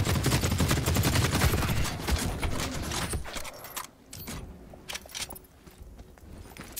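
Guns fire in The Cycle Frontier shooter game, with a dense, loud burst of rapid automatic shots for about three seconds, then a quieter stretch broken by scattered single cracks.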